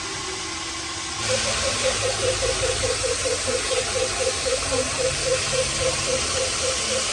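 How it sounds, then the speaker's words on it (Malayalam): After a short quiet start, a steady hiss of water sets in with a rapid, regular bubbling burble of air escaping a soaking clay pot running beneath it until the end. "ആ ഒരു ഹോൾസിലൊക്കെ വെള്ളം ഇങ്ങനെ കയറുമ്പോൾ അതാ ഇതേപോലെ ബബിൾസ് വരും എയർ ബബിൾസ്"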